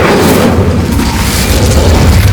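A fiery Incendio spell going off in Hogwarts Legacy, a loud, dense booming blast that fills the whole moment with roaring, rumbling noise and no break.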